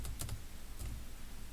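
Quiet keyboard typing in AutoCAD while entering point coordinates: a quick cluster of several key taps near the start, a pause, then a couple more taps, over a low background hum.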